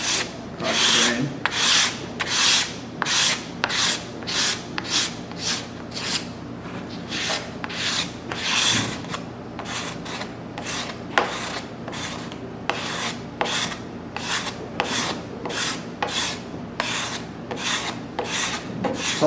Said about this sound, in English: I'm scraping in a little bit of an angle here